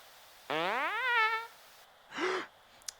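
Cartoon fart sound effects from Family Guy: a long rising, wobbling squeak, then after a pause a shorter, rounder blurt, both loud and alone against near silence.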